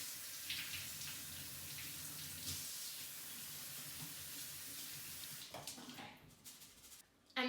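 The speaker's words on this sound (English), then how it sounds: "I'm just going to rinse it under cold water" Cold tap water runs through a mesh colander of quinoa, a faint steady hiss and patter for most of the stretch, then stops briefly before a few clinks and a sudden louder splash at the end.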